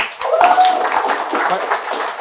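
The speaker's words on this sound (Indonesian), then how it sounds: "Tepuk tangan dulu." A studio audience claps at a debate's close, a short burst of fairly close, moderate applause that starts abruptly and carries on evenly for about two seconds, with faint voices underneath.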